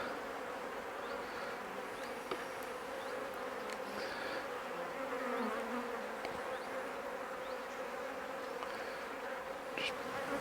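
A steady, dense buzzing of many honey bees around an open hive fills the air, close and continuous with no voices.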